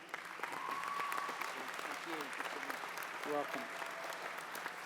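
Applause from a crowd at a graduation event for someone, a fairly faint, steady clapping texture heard under a brief spoken reply and some other voices.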